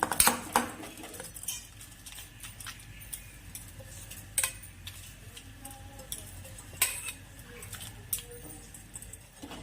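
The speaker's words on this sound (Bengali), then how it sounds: "এবার ভালো করে চালটাকে দুধের মধ্যে নাড়াবো" A spoon stirs rice through thickened, reduced milk in a pot for kheer payesh, sparse light clinks and scrapes against the vessel with soft ticking between them.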